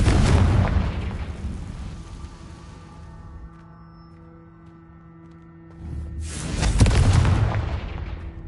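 In Hogwarts Legacy, a Confringo spell explodes in two loud, deep booms a few seconds apart, each with a long rumbling decay, while a faint tonal hum lingers between them.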